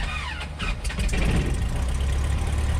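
A Cessna 150 light aircraft engine fires up, a short cranking stutter giving way to a loud, steady low rumble as the engine catches and runs at low power, close and without talk.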